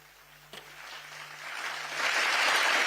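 Applause at an official booklet release ceremony starts after a single thump and builds into a broad, steady wash of clapping from a large audience, growing louder toward the end.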